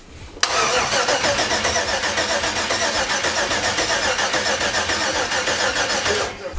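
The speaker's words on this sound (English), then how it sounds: "I'm just gonna crank it over actually." A car engine cranks and catches at once, then runs loud and steady at a rough, rumbling idle for several seconds up close before cutting off abruptly. The engine was just reassembled, with the fuel rails reconnected.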